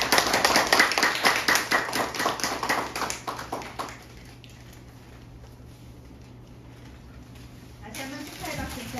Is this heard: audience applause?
yes